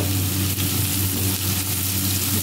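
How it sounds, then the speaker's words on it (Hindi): Whole cumin seeds frying in oil with garlic and onion give a steady, dense sizzle with a constant low hum beneath, close and unbroken, with no voices. "साबुत ज़ीरा, इसको फ्राई करेंगे"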